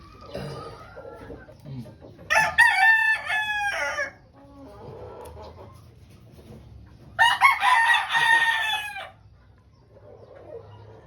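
A gamefowl rooster, a nearly three-year-old Tornado hatch, crows loudly twice, each crow a long strained call a few seconds apart, with quieter clucking and someone talking softly between them.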